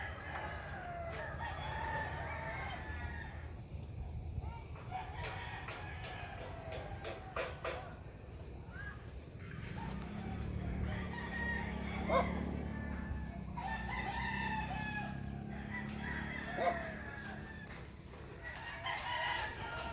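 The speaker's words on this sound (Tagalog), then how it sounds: "Maraming mga dalang manok dito eh." Chickens and roosters in a rural yard crow and cluck, several birds calling at different distances over a low background rumble, with a dog barking faintly now and then.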